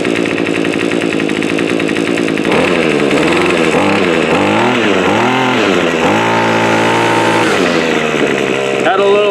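Gas grass trimmer running steadily after a cold start, its small two-stroke engine droning loud and close with repeated rises and dips in pitch as the throttle is worked, and a brief clutch slip near the end.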